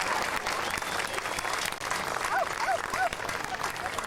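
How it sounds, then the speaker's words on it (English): Audience applause at an outdoor jazz festival for a high school jazz ensemble, continuous crowd clapping at moderate distance with a few whoops rising over it. "Let's give them a round of applause."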